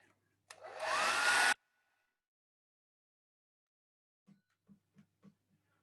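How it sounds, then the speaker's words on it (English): A hair dryer blasts loudly for about a second, speed drying a watercolor painting, then cuts off to near silence, followed by a few faint soft taps. "So bear with me while I speed dry this and get all this yellow out of my mixing area."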